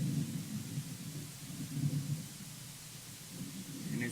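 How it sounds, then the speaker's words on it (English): Thunder from an approaching line of thunderstorms at night near Pioneer, Ohio, a low continuous rumble rolling steadily throughout with faint rain mixed in, no voices. "Line of thunderstorms coming in"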